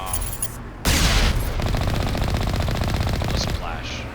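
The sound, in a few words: Mako tank cannon firing in Mass Effect video game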